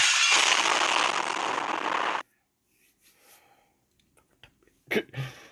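Cannon fire explosions from the video game Fate/Grand Order: a loud, dense burst of crackling blasts lasting about two seconds, then near silence with faint scattered clicks and a brief sharp pop at the end.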